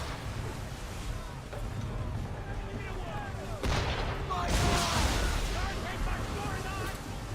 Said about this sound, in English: Use the swivels on them, Captain. On my mark. Fire swivel!